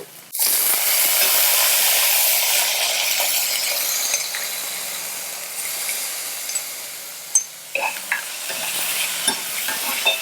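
Soaked toor dal tipped into onions frying in oil with curry leaves and stirred, a loud steady sizzle that eases slightly, with a few scraping stirs and clinks of the spoon near the end.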